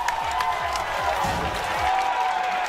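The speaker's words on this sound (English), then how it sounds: "everybody in the back, like everybody's cheering for that" A packed Tekken 7 tournament hall full of spectators erupts in loud, sustained cheering and applause after a tense play, a dense roar of crowd noise from start to finish.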